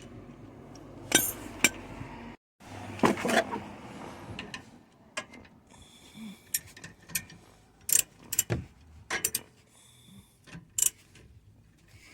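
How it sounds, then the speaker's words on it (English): Sharp metallic clinks and taps of a 14 mm wrench against parts while removing rear brake pads on a 2020 Nissan Rogue, scattered irregular hits close by over a quiet background. "Fourteen mm wrench."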